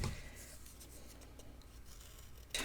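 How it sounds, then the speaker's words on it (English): Scissors fussy cutting small paper pieces for a craft mini album, heard as faint, close snips and paper rustles in a steady run, with no talk. "let me fussy cut these two out"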